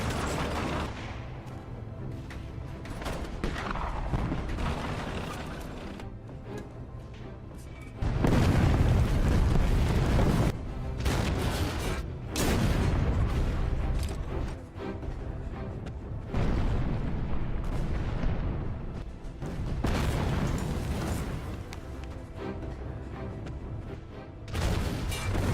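Heavy film battle soundtrack with artillery fire and explosions against German tanks: dense, loud booms and rumbling blasts follow one another almost without pause, with the loudest bursts in the middle stretch.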